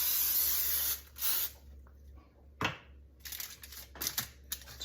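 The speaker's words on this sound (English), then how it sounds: "lightly spray these with some nonstick cooking spray." Close aerosol cooking spray hisses in several bursts, a long spray then shorter sputtering sprays with handling clicks between.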